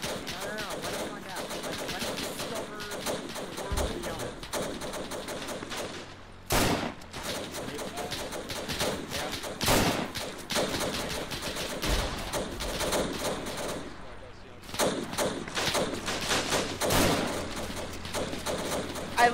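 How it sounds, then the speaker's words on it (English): Machine gun turret firing in Arma 3 set in World War One trench warfare, dense sustained bursts of automatic gunfire with sharp louder shots standing out, heard under chatter and voices. "There's a literal machine gun turret."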